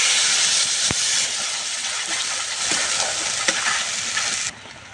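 Ground spice paste hits hot oil already flavored with cardamom, cinnamon and bay leaf, sending up a loud, dense sizzle and hiss that holds steady, then drops off abruptly near the end.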